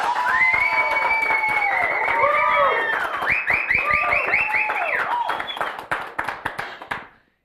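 Studio audience of a talk show claps and cheers, dense applause with whistle-like squeals running continuously and loud, then thinning into scattered claps before fading out.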